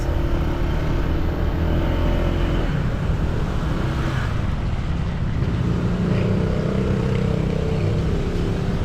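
Steady engine and road rumble while riding a motorcycle through traffic in Cavite, a continuous loud drone with shifting tones from nearby vehicles and no talk.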